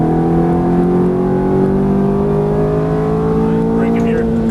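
A Ferrari F430 engine drones loud and near under hard throttle on a race track, its tone rising gradually with a driver talking over it.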